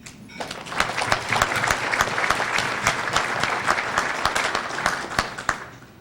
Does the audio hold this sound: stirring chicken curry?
no